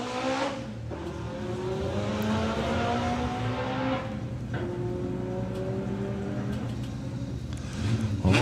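A Golf R and a Bad Habit Audi TT accelerate hard side by side in a drag race at Santa Pod, engines rising through the gears with repeated upward sweeps, loud and close, with a fresh burst of revving near the end.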